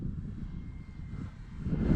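An E-Flite Cirrus SR22T radio-controlled model airplane flying slowly with flaps down, a faint distant motor drone that swells slightly toward the end, heard without talk.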